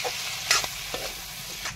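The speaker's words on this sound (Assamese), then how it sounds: "এতিয়া আলুখিনি দি ধুনীয়াকৈ ভাজি ল'ম।" Small diced potatoes fry in a pan with chicken, giving a steady sizzle broken by a few scraping stirs of a spatula, close and moderately loud, with no talk.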